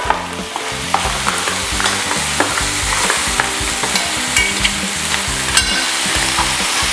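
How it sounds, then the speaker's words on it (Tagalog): Mud crab fries in chili garlic sauce with onions while being stirred, a loud constant sizzle broken by scraping and knocking of a utensil against the pan, no talking. "Lulutuin ko lang tong alimasag dito ng mga 2 minuto."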